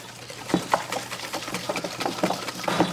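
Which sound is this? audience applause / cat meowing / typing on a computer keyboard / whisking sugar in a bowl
whisking sugar in a bowl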